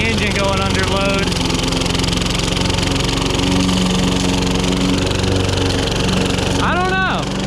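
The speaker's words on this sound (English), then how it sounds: "That's bogging it. You can hear the engine going under load." A John Deere 14SB walk-behind mower's engine labours steadily under load while cutting thick grass, a continuous close drone that holds its pitch throughout.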